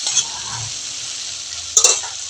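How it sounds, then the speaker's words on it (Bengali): Frying fish paste in a pan, a constant hiss and sizzle as water is added, flaring briefly into a louder burst of spattering near the end. "আমি যে এখন জল দিয়ে দিচ্ছি।"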